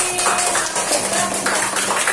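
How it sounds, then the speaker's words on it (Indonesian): Students in a classroom give a student group a round of applause. The clapping is loud and close, a dense continuous patter of many hands with faint voices underneath. "Tepuk tangan untuk kelompok rajin"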